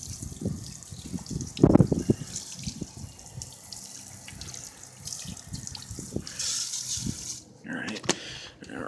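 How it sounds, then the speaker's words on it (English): Water sprays over a motorcycle chain to rinse off grit and grime, coming in uneven splashing bursts with a sharper gush early on, close and moderately loud. "you can just rinse down your chain and you'll see all kinds of grit and grime get washed off"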